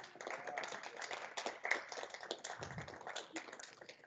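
Applause from a student government senate session audience for its summer senators, light and steady at a distance, with scattered claps and some taps.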